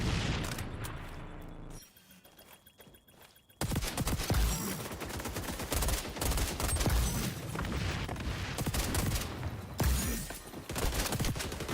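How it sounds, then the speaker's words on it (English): Suppressed gunfire in the shooter game XDefiant, dense rapid bursts of muffled shots that stop for a moment and then resume, loud and close throughout. "Power of the suppressor, guys, the power of the suppressor."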